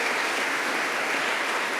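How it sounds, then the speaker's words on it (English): Audience at a Palestinian Mission Nakba Day event in London applauding a group of Latin American ambassadors; dense, even clapping from many hands, steady throughout and fairly near. "Please give them an applause for our ambassadors from Latin America."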